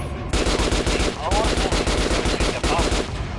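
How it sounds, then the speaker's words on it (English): Rapid, continuous automatic gunfire from a video game as shots hit an armored training dummy, a dense, loud rattle of close shots with only brief gaps. "Now shoot the armored dummy."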